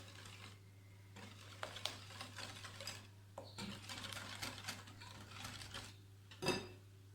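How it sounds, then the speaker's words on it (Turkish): Oil and milk being stirred together for a cake batter in a bowl, a soft irregular scraping and clinking of the utensil against the bowl, quiet and close over a steady low hum. "Bunları şöyle bir karıştırıyoruz."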